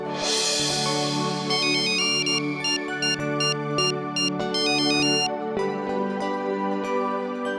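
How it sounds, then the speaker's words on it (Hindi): A melodic electronic ringtone plays continuously, bright repeating chimes over a sustained backing tone, with no voices. "मैं उनके पति मिस्टर अंबर शास्त्री को फोन लगाता हूं।"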